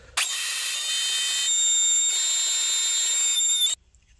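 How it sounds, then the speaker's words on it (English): A Dremel oscillating multitool blade cuts through wood studded with nails, giving a loud, sustained high-pitched buzzing whine that starts abruptly, holds steady for about three and a half seconds, then cuts off. "here's the Dremel versus the wood with nails"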